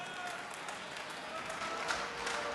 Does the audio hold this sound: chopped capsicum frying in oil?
no